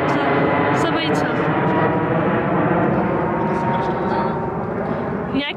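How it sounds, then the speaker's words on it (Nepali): Airplane noise near a beach on a seaside picnic outing, a loud, steady broadband roar that holds for several seconds, with people talking over it. "यो प्लेन त यहाँबाट उडिरहन्छ ल यताबाट अर्को उडिसके"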